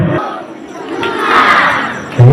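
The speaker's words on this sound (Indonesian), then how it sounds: "mari kita berikan aplaus yang meriah untuk peserta yang nomor undian 5" A large crowd cheers and shouts loudly for a numbered choir group at a parish youth choir competition, a sustained roar of many voices swelling toward the middle and carrying through to the end.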